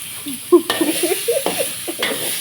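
Unmarinated sliced pork hip stir-fries in a pan for pad thai with Korat rice noodles. A close, steady sizzle carries scraping and tossing noises of irregular loudness, with sharper knocks standing out.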